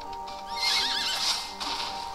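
Horse neighing in the card game Cards and Castles 2: a single, shrill, wavering whinny that rises and falls, close and clear, lasting about a second.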